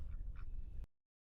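Ducks quacking in a feeding area, a short run of close nasal calls that cuts off abruptly partway through.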